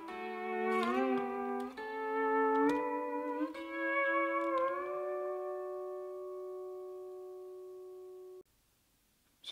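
Pedal steel guitar melody played on strings 8 and 5: several clear plucked two-note intervals ringing one after another, the last chord sustained long and loud before being cut off abruptly near the end.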